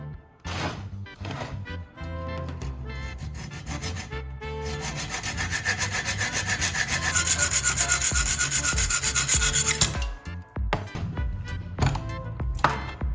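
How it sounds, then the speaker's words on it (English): A hand saw cuts through a bolt's head in steady back-and-forth strokes, a rasping metallic rhythm that starts, pauses, then runs loud and continuous for several seconds before stopping with a few scattered knocks. "Now I'll cut off the bolt's head, keeping only the threaded shaft"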